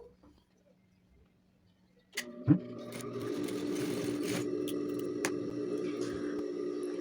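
A sewing machine runs a wide seam along a school backpack near the zipper, starting with a few sharp clicks, then a steady continuous whirring hum close up, with no talking.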